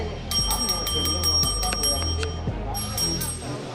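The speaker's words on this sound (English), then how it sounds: "What's that bell?" A bell in a busy restaurant kitchen dings several times in quick bursts, bright and metallic, over clattering and voices talking.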